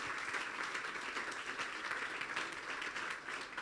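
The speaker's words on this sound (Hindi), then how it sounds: "फिर शान को बुलाएंगे हम यहाँ पर जोरदार तालियों में।" A church congregation applauding steadily, dense clapping filling the whole short stretch at moderate loudness.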